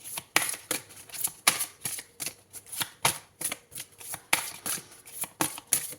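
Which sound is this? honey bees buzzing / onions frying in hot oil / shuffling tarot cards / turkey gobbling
shuffling tarot cards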